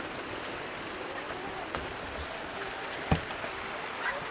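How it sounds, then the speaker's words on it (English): Heavy rain drums steadily on a barn roof as a dense, even hiss, with a few sharper knocks and thumps breaking through the wash. "I don't know if you guys can hear the rain just beating down."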